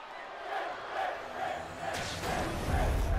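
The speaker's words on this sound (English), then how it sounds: "Crowd solidly behind Finn." Arena crowd in the WWE 2K24 wrestling video game, a continuous roaring, chanting cheer that swells in waves and rises toward the end, with a faint commentator voice beneath.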